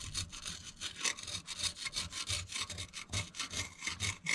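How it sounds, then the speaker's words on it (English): Close, rapid back-and-forth scraping of rust off a cast iron drain pipe, a rhythmic rasping stroke repeated steadily with no talking. "I'm just gonna try and scrape this a little bit very carefully."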